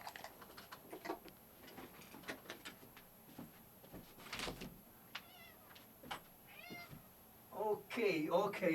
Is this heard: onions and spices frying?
no